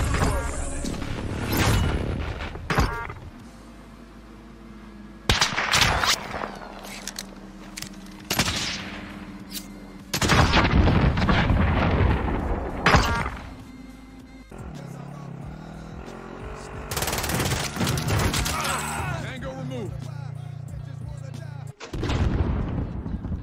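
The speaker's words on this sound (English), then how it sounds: "Friendly precision airstrike inbound." Precision airstrike explosions and gunfire in Call of Duty Warzone: a series of heavy booming blasts and bursts of shots separated by brief lulls, loud and close, with occasional voices mixed in.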